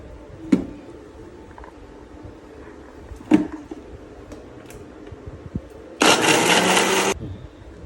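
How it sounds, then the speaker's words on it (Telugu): A kitchen mixer blends vanilla banana milkshake with milk, vanilla ice cream, cashews and almonds, whirring loudly for about a second near the end after a few soft clicks and knocks. "ఇవన్నీ ఐటమ్స్ ఇంగ్రీడియంట్స్ వేసి మిక్సీ చేద్దాము"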